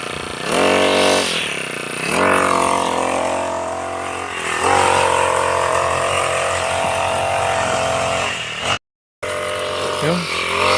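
A brush cutter engine misfires while cutting through tough, stiff grass, giving a loud, close, continuous rough drone that surges and sags unevenly and cuts out briefly near the end.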